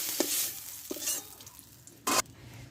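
Slices of ridge gourd fry in hot oil in a pan, a close, steady sizzle broken by a few sharp scrapes and clatters of a spatula stirring against the pan.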